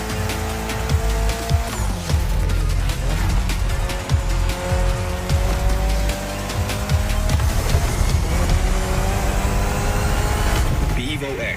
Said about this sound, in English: especially your new ride, Toji's Mitsubishi Lancer Evo X